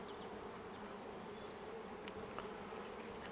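A steady, dense buzzing of many honey bees around a hive close by, continuous and unbroken with no voices.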